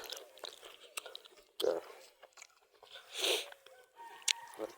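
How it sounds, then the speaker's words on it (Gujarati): Close, crunchy bites and chewing of homemade peanut brittle, with a few distinct crisp crunches between softer mouth sounds and quiet background noise. "આપણે ગટ્ટા ખાઈએ છીએ મફળીના."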